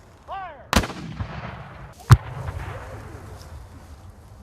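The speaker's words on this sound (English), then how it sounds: "And now turn your attention over to the cannon crew over there. Fire!" Civil War cannon fired by a demonstration crew on an open battlefield: one sharp, loud boom with a rolling echo, then a second crack about a second later, set against outdoor ambience.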